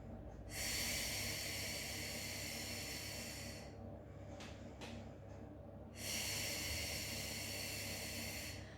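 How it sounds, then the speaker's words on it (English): Slow, deliberate breaths during a foam roller exercise, drawn in through the nose and pushed out through the mouth: two long, loud, hissing exhalations separated by a quieter stretch of softer breath noise, close up with no talking. "Inhaling through the nose, exhaling through the mouth."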